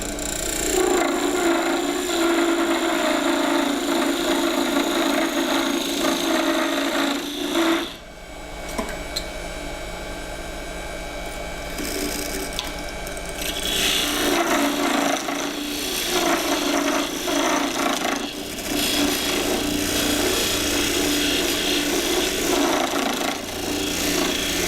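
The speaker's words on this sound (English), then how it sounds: "I'm going to bring it down with the parting tool with that." Parting tool cutting into a wooden cryptex part spinning on a lathe, a steady close scraping rasp that breaks off briefly partway through, then resumes with the motor hum underneath.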